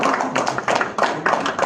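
Applause at a live meeting in Hyderabad, a close, fairly loud cluster of claps in uneven bursts rather than a large crowd roar.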